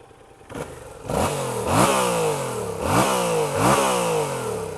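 A 2014 Yamaha MT-07 motorcycle engine revved repeatedly from idle, close and loud, with three or four rising blips that climb and fall back in a steady rhythm.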